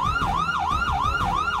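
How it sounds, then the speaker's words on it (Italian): A video game police siren wails in a fast, repeating up-and-down pattern, loud and close, over a low rumbling background. "Sento la polizia."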